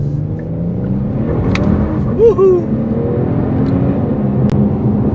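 A Genesis G70 with a rear-wheel-drive powertrain accelerates hard, its engine rising in a steady droning rumble, with a brief excited shout from a voice partway through.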